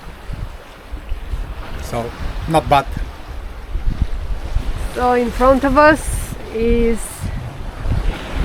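A sailboat under way in about 12 knots of wind off Kefalonia, making roughly 7 knots: steady wind rush and water noise with gusty microphone buffeting throughout, while people talk over it.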